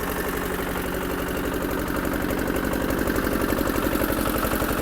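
A DW 160 walk-behind motor tractor engine runs steadily nearby, a continuous loud chugging drone with a fast, even knocking pulse and no voices.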